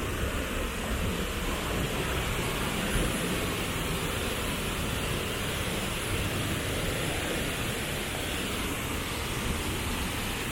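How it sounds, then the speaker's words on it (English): The 14-metre Mantayupan waterfall in Cebu, Philippines, swollen after two weeks of rain, gives a continuous loud roaring rush of falling water, broad and steady with no voices. "So this is the 14 meters waterfall of Mantayupan."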